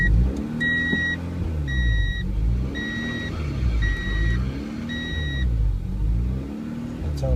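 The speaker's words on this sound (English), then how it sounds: "I'm gonna demonstrate how the car sounds without that plate and that valve." A 1992 Honda Prelude engine with a surging problem runs with its plate and valve removed, revving up and down in repeated waves. Short electronic beeps sound over the engine early on.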